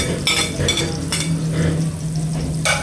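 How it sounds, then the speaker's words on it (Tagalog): Onion and garlic hit a hot pan and sauté with a steady close sizzle, while a spatula scrapes and stirs against the metal in a few scattered clinks and rasps. "Si Becca po ay magigisa na. Lalagay na po yung sibuyas. Saka yung bawang."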